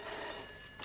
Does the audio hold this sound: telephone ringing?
yes